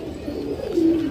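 A Teddy pigeon gives a short, low coo up close, a single soft rolling call that swells briefly near the end.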